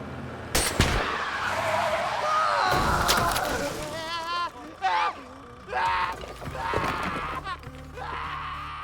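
A movie scene where a car skids and strikes a person on the road: a sharp slam early on, then tire screeches, impact noises and shouting under steady background sound, with no clear speech.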